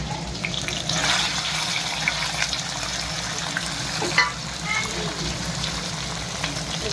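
Garlic paste and other ingredients fry in a hot pan with a steady, dense sizzle, with a brief stirring clatter partway through.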